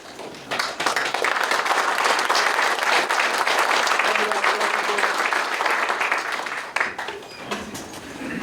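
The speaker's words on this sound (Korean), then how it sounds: "큰 박수로 함께 인사하며 교제를 나누겠습니다" Sustained applause from a church assembly crowd during a general assembly worship service, broad steady clapping that swells after a beat and carries on for several seconds before tapering slightly near the end.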